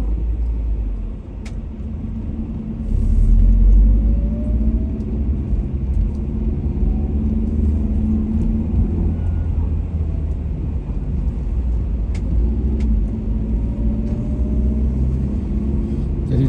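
Heavy container trucks rolling past on a busy road by the port of Makassar, a steady low rumbling traffic drone with engine swells and passing vehicles, continuous and fairly loud throughout.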